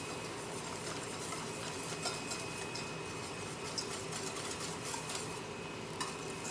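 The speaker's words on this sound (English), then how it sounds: "just continue to whip this. Whip, whip, whip, whip, whip. Get all the fat incorporated with the milk." A whisk scrapes and clicks steadily in a pan as milk is worked into sausage fat for gravy, a fast continuous stirring rattle over a low background hum, with no talking.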